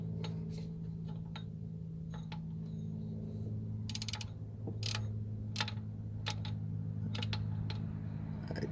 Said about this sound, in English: Then let's torque them down and get this pulley back on.